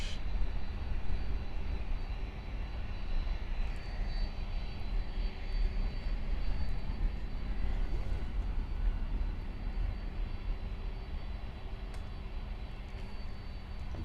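Steady low roar of a Boeing 767-300 cargo jet at Miami Airport, continuous broadband engine rumble holding fairly level throughout with no talking.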